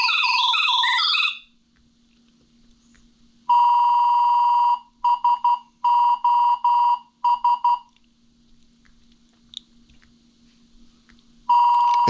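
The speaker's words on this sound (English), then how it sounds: "It sends a help message followed by SOS using the EBS tone pair." A SharkShout II emergency alarm sends SOS using the EBS tone pair: a loud warbling tone burst, then long and short electronic beeps spelling out SOS, then silence and a final tone, sharp and close.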